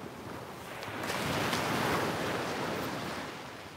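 Waves wash onto a beach in a soft, broad swell of surf that builds and fades over a few seconds, fairly quiet, with light wind on the microphone and no voices.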